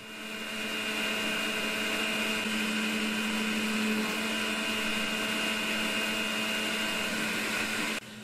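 A Makera Z1 desktop CNC mill cutting a pocket, a steady high whine from the spindle and end mill with a constant cutting hum. The sound stays loud and even for several seconds, then drops near the end.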